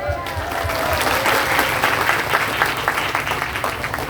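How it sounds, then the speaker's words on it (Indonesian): Audience applause at an Islamic boarding school event, a dense steady clapping from a large crowd that fills the whole stretch, loud and close, with some voices mixed in. "Kalau mau tepuk tangan bareng-bareng sekalian."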